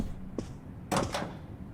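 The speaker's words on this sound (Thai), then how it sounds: "เสียงอะไรแปะเมื่อกี้ประตูปิดเอง" A door swinging shut on its own inside the Roblox game The Cinema Experience, a soft knock followed by a sharper double clack of the latch, brief and fairly close.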